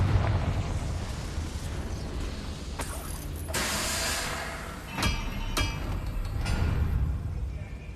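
A Confringo fire spell bursts in Hogwarts Legacy, a loud whooshing blast with crackling impacts over a constant rumbling game backdrop and a couple of sharp hits.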